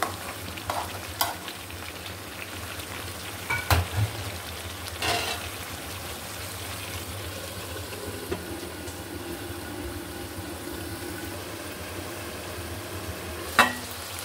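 Beef braises in a pan restaurant-style as a kosha, a continuous low sizzle broken by occasional utensil scrapes and knocks against the pan, with no voices.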